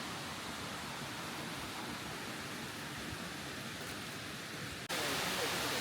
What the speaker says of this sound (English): Just find a small waterfall here.